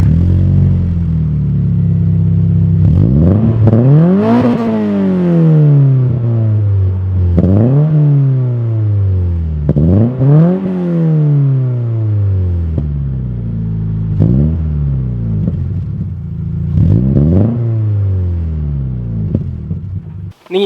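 A Subaru BRZ fitted with an aftermarket exhaust starts up and revs repeatedly, loud and close, with sharp rising-and-falling engine sweeps over a steady idle rumble and no talking.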